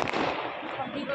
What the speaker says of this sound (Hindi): देखो पटाखे चल रहे